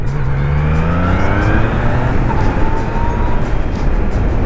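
A Yamaha Niken three-wheeled motorcycle pulls hard through its gears, the engine note climbing and dropping with each shift, loud and close with steady wind rush underneath.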